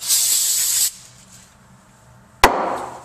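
An aerosol can of carb cleaner sprays onto a Ski-Doo MXZ 600 HO snowmobile power valve: a strong hissing burst of almost a second, a pause, then a second sharp burst that starts abruptly and fades.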